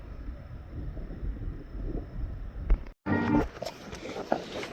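Wind at Apache Lake rumbling and buffeting the microphone in a steady low roar, with a brief dropout and a gust near the end, no clear talking.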